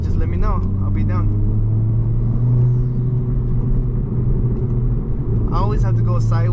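A lowered, modified 2022 Honda Civic Si pulls hard on a night drive, its engine droning steadily and loud from inside the cabin while someone talks over it at the start and end.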